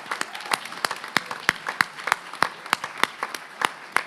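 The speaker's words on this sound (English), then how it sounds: "Can we all give them a round of applause?" A small panel audience at a labor justice summit claps in scattered, crisp individual hand claps that form a light, uneven patter, moderately close with no talking.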